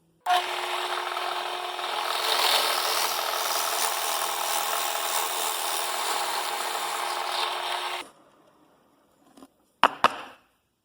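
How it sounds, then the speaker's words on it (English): A drill bores a 7/16-inch hole steadily into wood for about eight seconds with a loud, grinding whir, then stops, followed by a couple of sharp knocks. "I want to drill the 7/16 hole in this side right here"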